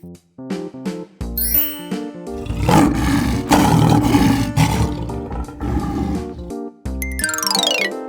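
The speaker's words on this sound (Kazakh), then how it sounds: "Арыстан." A lion lets out a loud, close roar mixed with bright chiming music, with jingling tones before and after it.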